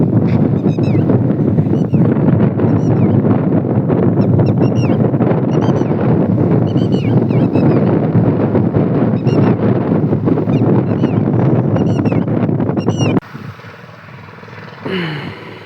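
Strong wind gusting across an open cotton field as rain begins, roaring loudly and steadily against the microphone for about thirteen seconds before suddenly dropping to a quieter hiss.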